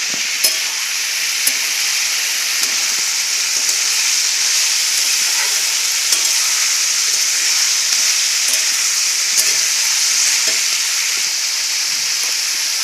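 Sago and ginger sizzle steadily in hot oil for sabu pulao, with chopped vegetables about to go in; a continuous close, loud frying hiss runs throughout, broken by occasional light stirring clicks, with no talking.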